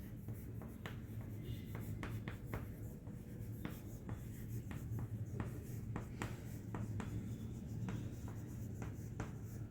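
Marker or chalk strokes on a board during a lesson on battery voltage, quick scratchy taps and short scribbles in an irregular rhythm, close but faint over a steady low room hum.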